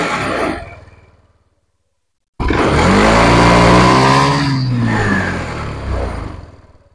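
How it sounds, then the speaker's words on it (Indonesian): A Honda Beat scooter with its spark plug cap removed starts with one press of the starter and revs hard, a loud steady engine roar that rises and dips over several seconds after a brief silence. "Sekali starter langsung hidup,"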